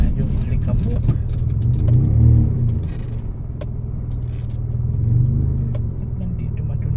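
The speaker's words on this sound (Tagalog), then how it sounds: "Nandito matong tricycle na to" A motor tricycle's engine rumbles low and steady on a dusty road, swelling twice as it pulls harder, with a constant road drone throughout.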